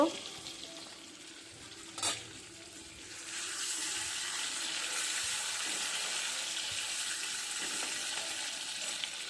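Taki fish frying in a pan of oil, a steady close hiss of sizzling that swells after a sharp clatter near two seconds and holds loud and even to the end, with no one speaking.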